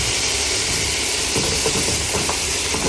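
Spices fry in a pan for an eggplant-stem curry, giving a steady, close hissing sizzle with faint stirring scrapes, and no voices.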